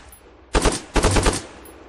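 Automatic gunfire in the military shooter game ArmA 3, two close, loud bursts of rapid shots in quick succession, about three and five rounds each.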